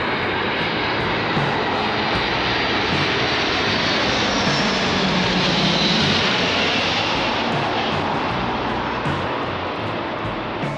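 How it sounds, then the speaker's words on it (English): A loud, roaring engine of a large US Air Force military plane coming in to land drones continuously overhead, a broad rumbling wash of noise that swells slightly as it passes close by. "the American Air Force is just about to come in and land with one of their huge military planes."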